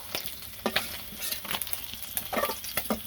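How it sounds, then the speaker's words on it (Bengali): Fish frying in hot oil gives a crackling sizzle, broken by irregular spatula scrapes and taps against the pan, close and moderately loud throughout. "মাছগুলো কিছু হয়ে গেছে ভাজা"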